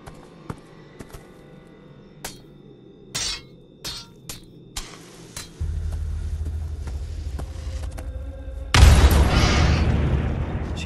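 Scattered sharp pops and clicks, then a low rumble swells before old dynamite explodes in The Walking Dead Onslaught VR, a loud, booming burst near the end that roars on.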